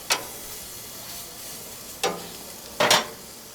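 A pork loin chop sizzles in a pan after being flipped, a steady hiss broken by three sharp utensil scrapes or clanks, close and clear with no talk.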